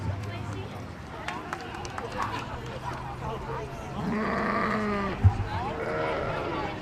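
Sheep bleating at the Sheridan County Fair, with breeding sheep and market lambs in a show ring, heard in a few wavering calls under steady crowd murmur and a show announcer talking nearby.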